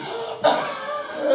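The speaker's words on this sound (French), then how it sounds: "j'ai oublié, docteur, je tousse beaucoup." A woman at a doctor's visit gives a single short, close cough over faint room tone.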